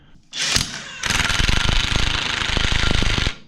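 Pneumatic impact gun fastening a racecar front hub: a short opening burst, a brief pause, then a longer loud hammering rattle for about two seconds, close up.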